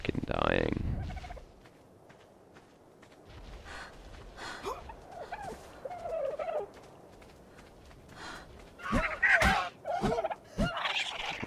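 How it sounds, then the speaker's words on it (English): Dodo birds in the survival game Ark call with repeated gobbling, honking squawks, a burst at the start and a cluster near the end, with a gasp-like cry in between, loud and close, no talk. "There's some dodo birds that I can kill."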